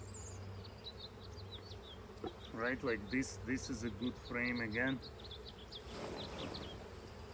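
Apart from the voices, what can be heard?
honey bees buzzing while making a hive split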